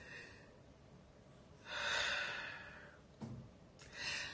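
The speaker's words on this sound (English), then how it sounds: "let's take a breath together." A person takes a slow deep breath in, then lets out a long exhale, followed by a short sniff and another soft breath, all faint and close.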